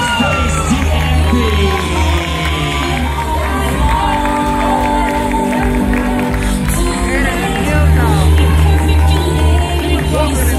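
A dense crowd at a Pride ballroom runway event cheers and shouts continuously over thumping music, loud and sustained throughout, with voices calling out in the mix.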